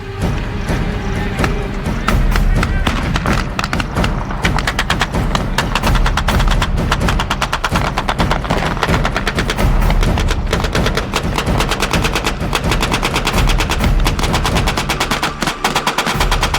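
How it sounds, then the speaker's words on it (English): Machine guns firing blanks during combat training, with loud, dense, rapid bursts of gunfire, nearby and continuous throughout, mixed with heavy thumping reports and no pauses. "Even though the weapons are only firing blanks, it's clear the machine gun controls the battle."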